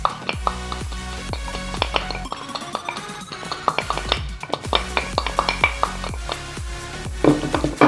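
Cumin seeds are crushed in a small grinder or pounding vessel, producing a steady stream of sharp, rhythmic knocks and gritty crunches. The sound is close and busy, with no speech over it.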